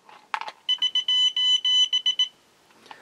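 A Radiascan 701A Geiger counter alarm beeps near autunite and torbernite. A fast string of loud electronic tones pulses in an uneven rhythm, followed by a few clicks.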